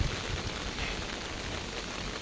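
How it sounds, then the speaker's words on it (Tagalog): Heavy rain pours down in a steady, dense hiss, close and continuous, with no voices over it. "Lumakas yung ulan."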